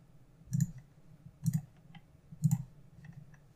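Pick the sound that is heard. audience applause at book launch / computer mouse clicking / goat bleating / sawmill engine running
computer mouse clicking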